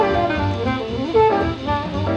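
A bass plays a short, quick bebop solo phrase, with busy, flowing notes that are clear and close.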